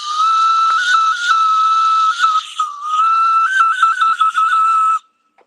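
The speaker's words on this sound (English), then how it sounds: "this is a whistle here" An ancient artifact whistle with a reed gives a shrill, steady, piercing tone in a few long sustained blasts with brief wavering breaks, loud and close, then stops abruptly.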